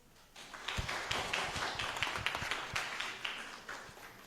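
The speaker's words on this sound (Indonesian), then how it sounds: "Kasih tepuk tangan dulu" An audience claps at a university public lecture on cybersecurity and artificial intelligence at UNJ, a burst of scattered, uneven hand claps that swells quickly and holds steadily for several seconds.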